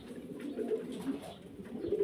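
Several pigeons coo softly in a loft kept for breeding and sale, their low, rolling calls overlapping steadily for a couple of seconds at a moderate, fairly close level with no talking.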